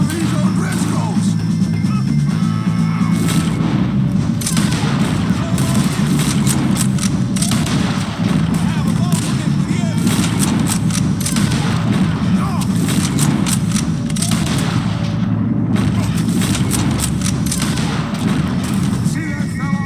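A shootout with O'Driscolls in Red Dead Redemption 2, with gunshots firing off repeatedly and fairly close throughout, layered over a dense, loud backdrop of other game sound.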